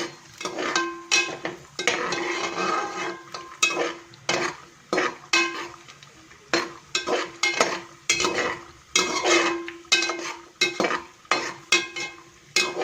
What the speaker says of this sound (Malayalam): പെട്ടെന്ന് തന്നെ ഇത് വറുത്ത് കോരി എടുക്കണേ തീ വളരെ കുറച്ച് വെച്ചിട്ട് വേണം വറുത്തെടുക്കാൻ കേട്ടോ